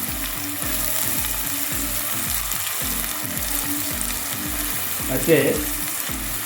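About 150 grams of small chopped onions frying in a pan, a constant close sizzle cut by regular rhythmic scraping strokes of stirring, with one brief louder knock near the end.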